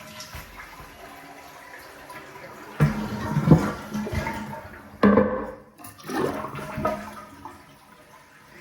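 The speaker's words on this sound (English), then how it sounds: "Then I'm going to flush the toilet." Toilet flushed with its supply valve shut off, a sudden rushing gurgle of draining water in two surges, close and echoing in a small bathroom.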